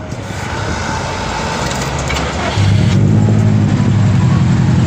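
A Subaru WRX engine starts up and idles after a roadside ignition coil pack repair, a loud close rumble that steps up and steadies into a continuous drone.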